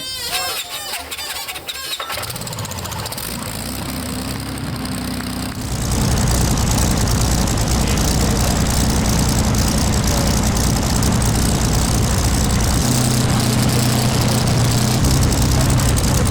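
The rear aero engine of the 1927 Sunbeam 1000HP land speed record car is started at the Beaulieu International Autojumble, squealing and catching before settling into a loud, steady roar.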